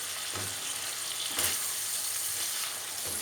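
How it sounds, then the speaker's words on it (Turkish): Ground meat frying in a pan for içli köfte filling, a steady bright sizzle with soft periodic stirring thumps and one slightly louder scrape in the middle, no voices. "Yani kıymamız suyun çekene kadar kavuracağım arkadaşlar"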